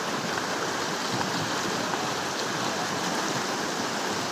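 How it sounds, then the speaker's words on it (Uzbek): A mountain stream flowing near a spring shrine, a steady, dense rushing and gurgling of water heard close and loud throughout, with no voices. "Ziyoratgoh atrofida tog' daryolari yoki soylari oqib o'tadi."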